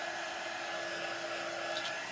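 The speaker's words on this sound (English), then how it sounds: "So I'm just hitting it with a heat tool here." A heat tool blows hot air onto a handmade decorative gift box in a steady, continuous whooshing hum with a thin whine, close and uninterrupted.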